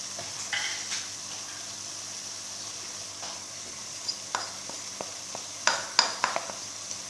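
Chickpeas, garlic and spices frying in a pan give a faint, soft sizzle, with scattered utensil clicks and taps against the pan growing more frequent toward the end.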